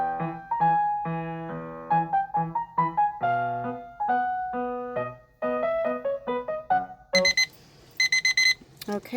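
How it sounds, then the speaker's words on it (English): A kitchen timer alarm goes off while silicone molds are being made, playing a repeated electronic melody of clear beeping tones before switching to a harsher buzzing pattern near the end. "Okay, our timer went off."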